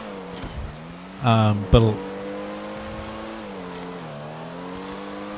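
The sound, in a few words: race car tires squealing as it goes off track, GTA video game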